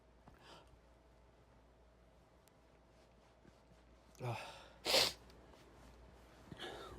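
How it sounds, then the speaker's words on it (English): A single sharp sneeze bursts out loud and close in a quiet room, preceded by a short intake of breath and followed by a softer exhale. "I'm going to sneeze."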